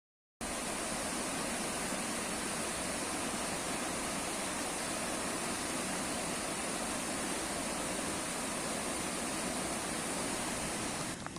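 Running Eagle Falls in Glacier National Park, Montana, a short waterfall pouring from a cliff, roars as a steady, dense rush of falling water, loud and unbroken from start to finish.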